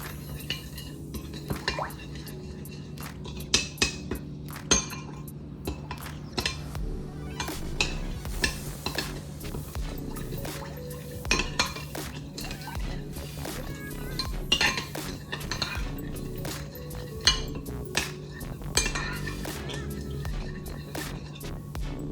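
A spoon clinks and scrapes steadily against a bowl as garlic paste and dried oregano are stirred into a salmon salad, a quick, busy rhythm of close metallic taps over a low steady hum.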